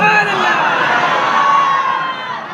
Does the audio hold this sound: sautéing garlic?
no